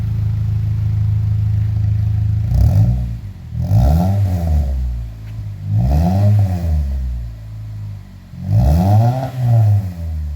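Chevrolet Cobalt with an Ecotec engine revving four times through a budget DNA Motoring catback exhaust, each loud throaty blip rising and falling close by, with no talk.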